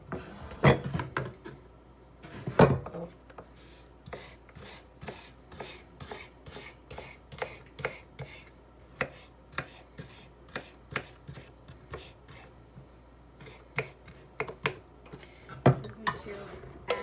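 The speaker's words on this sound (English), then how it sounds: "I just cut my onions, and I'm basically dicing these pretty fine because I don't want these huge chunks" A knife finely dicing onions on a board makes a quick, even series of close, crisp chops that run almost the whole way through, with a few heavier knocks and soft background murmur.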